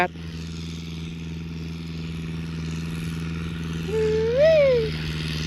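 A modified Kubota L4708 tractor engine idles with a steady low drone throughout, while near the end a voice briefly rises and falls over it.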